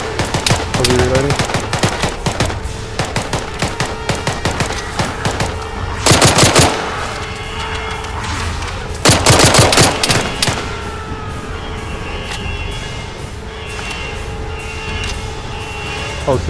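Rapid automatic gunfire in the ARMA 3 military video game, loud sustained bursts with heavier volleys near the middle, under occasional speech.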